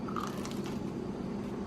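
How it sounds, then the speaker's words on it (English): Someone bites into crispy baked summer squash topped with parmesan, garlic, cheese and oregano, giving a few quick close crunches over a steady background hum. "You hear the crunch?"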